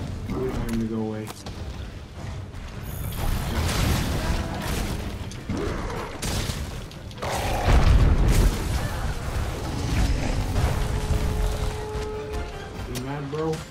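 Bombs blowing up against the monster Anjanath in Monster Hunter World Iceborne, heavy booms and mechanical clatter in a loud, continuous game mix with a voice talking throughout.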